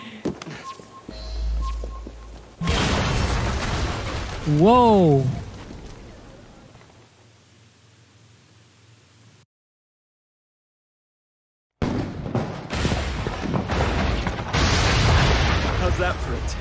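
A bus blows up in the video game Assassin's Creed Syndicate, a loud booming blast with rumbling debris that drops to near silence before game noise resumes.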